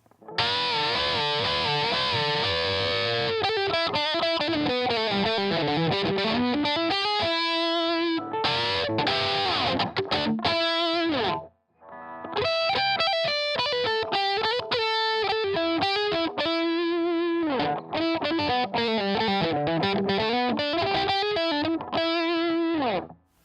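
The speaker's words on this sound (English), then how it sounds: "pick or strum harder or softer, depending on what you want to achieve" Heavily distorted electric guitar strums chords in two loud passes, separated by a brief pause, with the picking dynamics shifting between softer and harder.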